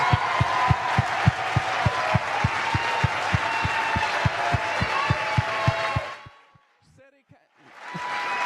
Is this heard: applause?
yes